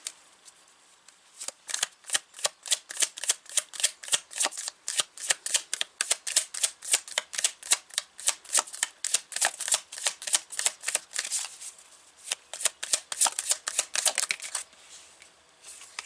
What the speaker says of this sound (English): Okay, so I'm going to pull a few tarot cards here.